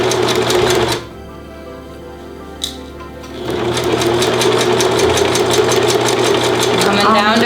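Sewing machine stitching slippery wedding dress fabric, a fast, steady mechanical whir and clatter close up that stops for a couple of seconds, with a small click, then resumes at full speed.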